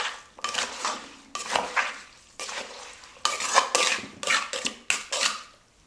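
A spoon mixing Bangkok-style green papaya salad (som tam) in a bowl, repeated bursts of scraping and clinking with short pauses between strokes, close and moderately loud, no voices.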